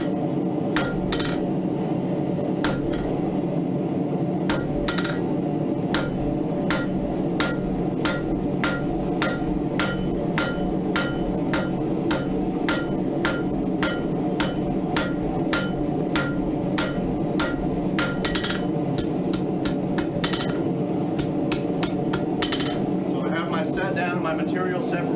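Hot metal bar being forged into a diamond finial on an anvil, with steady, evenly spaced hammer blows ringing out loud and close, dozens of strikes in a regular rhythm over a constant background hum.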